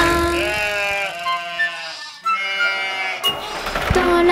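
Sheep bleating within a French children's farm song, wavering bleats over bright sung music and backing instruments, with a short break midway before the tune resumes.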